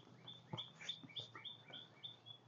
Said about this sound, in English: These birds, I think, want me to come and feed them.